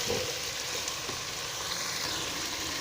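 Boneless chicken pieces fry lightly in a pan with a steady, close hiss and sizzle. Soft crackles and pops run through it, and there is no talking.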